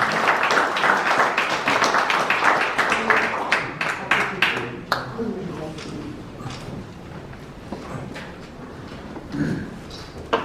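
An audience at a symposium at the National Assembly Members' Office Building, on establishing an Overseas Koreans Agency, claps in a dense burst of applause that gradually thins and fades into scattered claps and voices.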